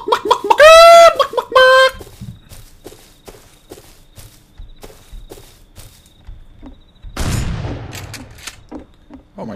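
In the Rust video game, a player's voice imitates chicken clucking in two loud bursts, followed by quick footsteps and a sudden burst of gunfire.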